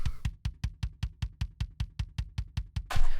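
A tightly gated kick drum from a black metal mix hits in a fast, even stream of about fifteen punchy thumps with clean silence between them, before a burst of wash at the end.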